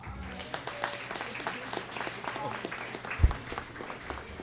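Audience applause at a hospital's 30th anniversary event, a dense steady patter of many hands clapping for several seconds, with a voice speaking underneath and one louder thump near the end.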